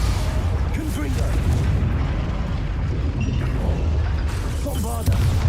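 The Confringo blasting spell explodes in the Hogwarts Legacy video game, heavy booming blasts and rumble over a loud, continuous battle din, with voices speaking in the mix.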